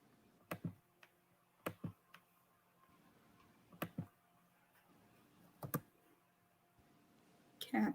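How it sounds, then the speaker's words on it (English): Typing on a computer keyboard comes in slow, sparse bursts of a few clicks separated by pauses, quiet and close, with no talking. "I type so slow."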